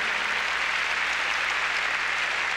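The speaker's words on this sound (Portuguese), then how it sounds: "Vamos aplaudir ao Senhor" A church congregation claps in praise to the Lord during a worship service, a dense continuous wash of applause filling the whole short moment.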